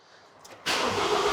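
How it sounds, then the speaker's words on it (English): A 2017 Ford Transit Custom van's diesel engine, primed after its fuel system was emptied, starts after a quiet moment and jumps straight into a loud, steady rumble close by with no pause. "So the van is gonna take a little bit longer to start."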